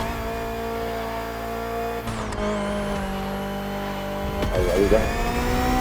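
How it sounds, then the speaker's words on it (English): A BMW M Hybrid V8 endurance race car from the game Motorfest holds a loud, steady engine drone that shifts pitch with the revs. Brief speech is heard over it. "Finally, the BMW M Hybrid V8."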